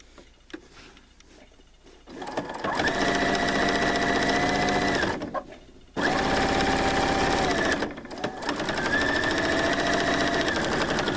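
A sewing machine stitches placemat fabric in loud, fast runs. A brief burst is followed by two long sustained stretches, each separated by short pauses while the fabric is pivoted, with no talking.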